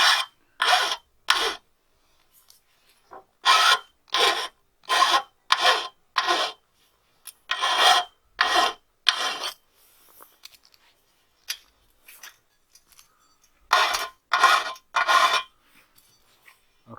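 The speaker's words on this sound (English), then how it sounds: "we're going to take our flat file and we're going to just run around this. We're going to get rid of the burrs that the sawzall left." A flat file rasping burrs off the sawn end of metal tubing, short rhythmic strokes in bursts of three to six with brief pauses between them, close and clear, no talk.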